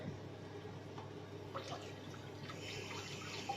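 Tap water runs faintly while hands are washed at a sink, a soft steady splash with a few brief drips, quiet and distant.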